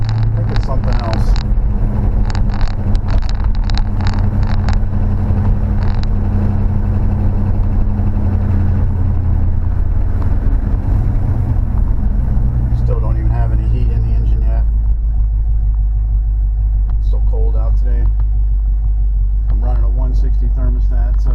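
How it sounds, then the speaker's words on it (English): A Plymouth Fury with a 383 V8 idles with a steady low rumble, warming up, while people talk over it now and then. "it takes a few minutes for the engine to heat up."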